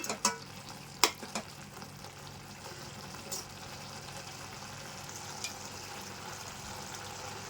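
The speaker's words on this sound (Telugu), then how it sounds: "కలుపుకుంటూనే ఉండాలి" Khadduka halwa stirred in a pan with a spoon, a faint soft sizzle and scraping running steadily, with a few sharp knocks near the start and no speech.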